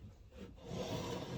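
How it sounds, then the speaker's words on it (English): A metal file rasps along the edge of a smoothed wooden tool handle, a soft, close scraping rub lasting a moment and growing slightly louder. "So I'm going to take my file."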